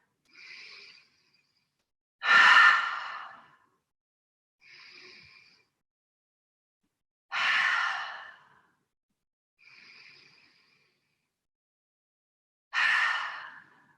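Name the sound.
breaths in through nose and out through mouth, yoga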